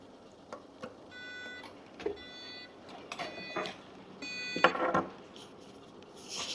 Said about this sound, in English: the beeping goes away